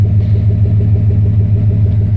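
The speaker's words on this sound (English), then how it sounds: "this is still the 40 series Flowmaster, but the 40 series Flowmaster had a loud popping to it" A 2005 Chevy Silverado idles through a 40 series Flowmaster muffler: a loud, deep exhaust rumble with a regular, even pulsing throb that carries on without a break.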